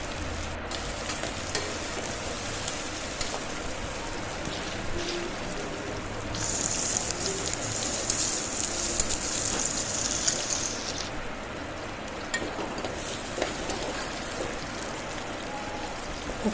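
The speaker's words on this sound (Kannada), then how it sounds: "ಕರಿಬೇವಿನ ಸೊಪ್ಪು ಮತ್ತು ಈರುಳ್ಳಿನ ಸೇರಿಸಿ ಚೆನ್ನಾಗಿ ಒಂದು 5 ನಿಮಿಷ ಫ್ರೈ ಮಾಡ್ಕೋಬೇಕು" Curry leaves and chopped onion fry in hot oil for an eggplant palya, giving a steady, close crackling sizzle throughout with no voices.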